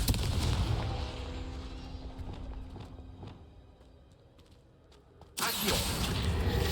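A Confringo blasting curse goes off in the Hogwarts Legacy video game, with a loud opening blast that fades over a few seconds, then a second sudden loud burst near the end, with scattered sharp impacts in between.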